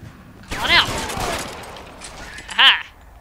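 Gunfire in the video game LA Noire: a couple of sharp shots about two seconds apart, with game noise and talk around them.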